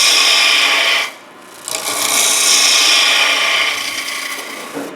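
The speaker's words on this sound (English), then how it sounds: "So I'm just going to rub the ends down." Abrasive rubbing against the spinning ends of a fresh-cut wood blank on a lathe, a loud steady rasping hiss that drops out briefly near the start, then resumes and runs on continuously.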